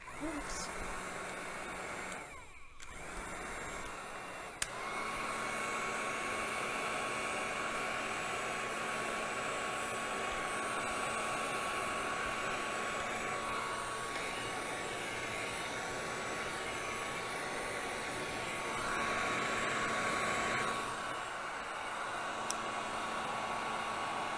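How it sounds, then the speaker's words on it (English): A heat gun blows across resin ocean coasters, giving a steady, close airy roar that lasts throughout, with a short dip near the start and a slight swell later. "I'm going to take the heat gun to this one again."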